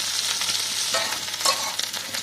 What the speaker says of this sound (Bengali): এবার আমরা একসাথে বিনসটাকেও ভেজে নেব।